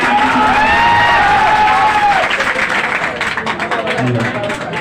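Crowd at a Teacher's Day event claps and cheers loudly and steadily for a guest, Dr. Saurabh, with a few shouts rising over the dense applause.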